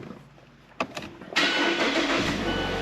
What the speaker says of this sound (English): You'll see it starts right up, it runs.